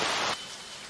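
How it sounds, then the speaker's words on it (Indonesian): Rain falls as a steady hiss, loud for a moment and then dropping to a softer, continuous patter. "Pada saat itu sedang hujan"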